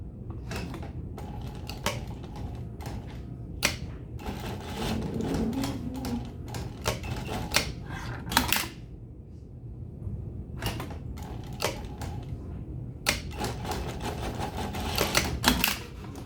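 A sewing machine stitches a bustier's busk closure, backing up to lock the seam: a rapid mechanical rattle runs in short bursts separated by brief pauses, with a low motor hum underneath.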